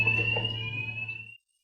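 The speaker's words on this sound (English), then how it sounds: "oh dear, it's a fire alarm." A fire alarm sounds a steady high electronic tone with a low hum beneath it, loud and close, then cuts off abruptly after about a second and a half.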